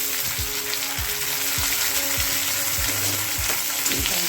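Tomato and onion sauté in a sizzling pan, with a spatula scraping the bottom in regular strokes about twice a second over a continuous frying hiss.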